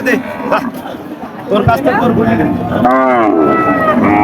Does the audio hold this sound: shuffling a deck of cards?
no